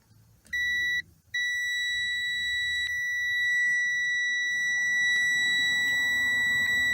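A multimeter emits steady, piercing electronic beeps during a continuity test on the immobilizer wiring of a Toyota Camry, with a short break near the start and then a long continuous tone.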